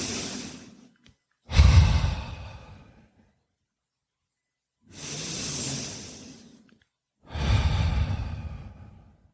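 Slow, meditative breathing in and out: three long, deep breaths spaced by quiet pauses, each a soft sighing rush of air close to the listener, with no talking.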